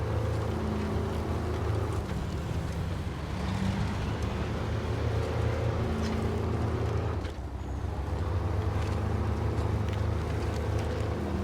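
Low, steady rumble of a truck engine in the off-road driving game Snowrunner, droning continuously with a brief dip midway before resuming, heard alone without talk.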